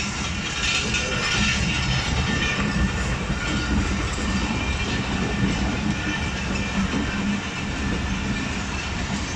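A departing Hazara Express passenger train rumbles past close by at Pano Aqil Cantt railway station, Sindh, with continuous loud rolling noise, wheel clatter and faint squeals throughout.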